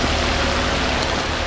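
A Land Rover Freelander 3.2 24v petrol engine idles steadily after a spark plug change, a continuous low rumble with a constant close-up hum and no talk.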